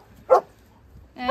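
Two sharp dog barks, one then another about a second later, close and loud against a quiet background.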